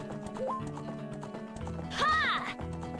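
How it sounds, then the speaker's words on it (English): A horse in The Legend of Zelda: Ocarina of Time runs with quick clip-clopping hoofbeats and lets out a short whinny, game sounds mixed with faint background music. "You hear my horse running into the wall."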